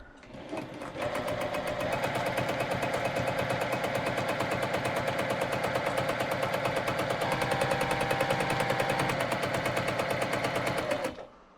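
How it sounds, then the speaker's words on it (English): A sewing machine stitches pinned fabric pieces along a straight line for half rectangle triangle quilt blocks, running in one loud continuous rapid rattle for about ten seconds before stopping. "I'm going to stitch straight along that line there."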